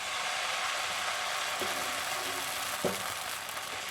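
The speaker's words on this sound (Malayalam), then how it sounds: "ഇനി നമുക്ക് മാവ് ഒഴിച്ചു കൊടുക്കാം." Dosa batter poured onto a hot pan rubbed with oil and onion, with a steady, close sizzling hiss throughout and a couple of soft clicks from the pan.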